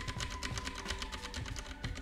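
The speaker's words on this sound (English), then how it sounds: "If I type on my mechanical keyboard," Rapid clicking of a mechanical keyboard typed on behind a USB condenser microphone, a dense continuous patter of keystrokes held at a moderate, slightly distant level with no voice.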